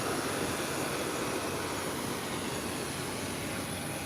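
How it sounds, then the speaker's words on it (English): An airplane taking off roars as a loud, broadband, steady rush of jet engine noise that fills the whole clip without letting up. "Another good takeoff."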